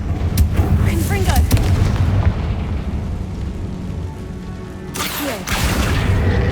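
A Confringo blasting curse explodes in the video game Hogwarts Legacy, giving loud booming bursts over a sustained rumbling roar, with a fresh blast striking near the end.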